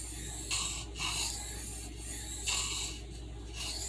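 A Kershaw knife blade drawn across a hard Arkansas oil stone makes close, steady rasping strokes that swell and fade in a regular rhythm, roughly one per second.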